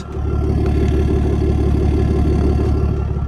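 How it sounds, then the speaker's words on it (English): A BMW idles with its exhaust burbling loud and close, a steady, deep, throbbing rumble with an even pulse and faint mechanical clatter, holding constant with no voices. "Just to give you a little bit of an exhaust sound."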